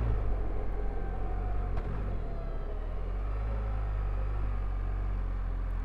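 A BMW R1300GSA motorcycle pulls away and accelerates in first gear on a slight downhill, its engine a steady, full low rumble heard close up with heavy wind noise.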